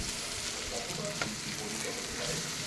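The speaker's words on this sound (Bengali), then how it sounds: "আবার নাড়াচাড়া করলাম।" Vegetables with chopped green chilli and grated carrot fry in a pan as they are stirred, a steady close sizzle with faint scraping of the spoon, no voices.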